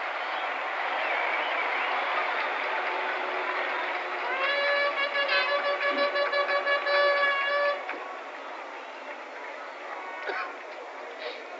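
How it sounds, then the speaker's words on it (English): Crowd at a 1964 World Series baseball game between the Yankees and Cardinals giving a big hand, with steady applause and cheering under a radio announcer's voice, heard through an old broadcast recording. "Mike Shannon, who undoubtedly will get a big hand from this crowd for that home run he hit yesterday."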